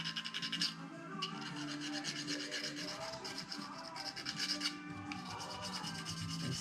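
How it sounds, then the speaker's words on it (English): Sanding to scuff the surface of a foam flap on a Vortex 4 DLG glider build, a close, steady rubbing rasp in repeated strokes with no talk. "And scuff the surface."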